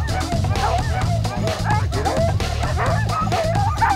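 A pack of sled dogs in Cansiglio, Belluno, barking, yipping and whining excitedly in a dense, overlapping chorus before a dog trek, with people talking among them.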